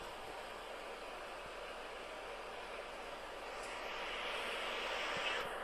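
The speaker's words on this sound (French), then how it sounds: "Hop, on va atterrir." Airliner cabin during landing after a long-haul flight into New York, a steady loud engine and airflow roar that swells slightly near the end, with no talking.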